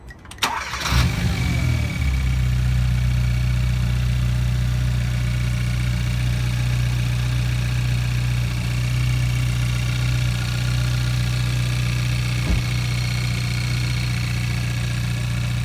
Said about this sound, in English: You're going to hear a crazy ass sound, but that's just coming from the cold air intake.